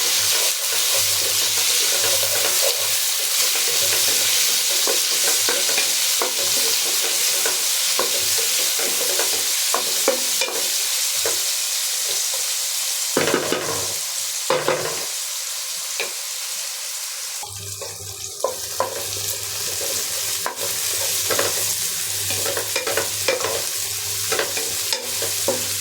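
Garlic, onions and dried fish (shutki) stir-frying together in a pan: loud, continuous close-up sizzle with intermittent scraping stirs over nearly half a minute, and no talking.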